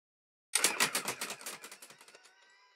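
An electric Jamit knitting machine starts up with a rapid rattling run of clicking carriage strokes that slows and fades over about two seconds, close and alone.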